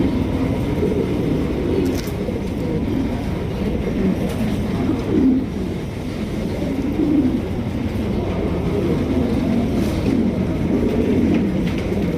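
A flock of large fancy pigeons, among them Andalusians kept for sale, coos in a low, continuous murmur that swells and fades slightly and fills the whole stretch at a steady, fairly loud level.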